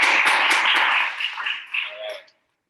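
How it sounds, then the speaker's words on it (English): A small group applauds a guest lecturer after a drug education class talk, a brief round of close clapping that thins out and stops after about two seconds. "give him a round of applause"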